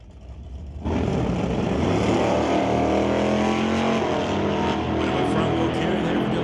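A 1982 S10 and a Chevelle launching side by side at a drag race, one lifting its front wheels: a sudden loud roar of engines bursting in after a quiet start, then a sustained high-revving drone as they pull away.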